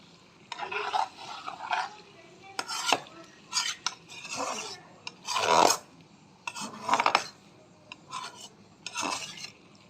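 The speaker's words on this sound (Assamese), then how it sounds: "আমি এতিয়া এই জিৰাখিনি গোটেইখিনি আকৌ মিক্স আপ কৰি দিম" A spoon scrapes and stirs cumin spice mix through broiler chicken meat in a metal pot, coming in short uneven bursts of close clinking and rasping with quiet gaps between.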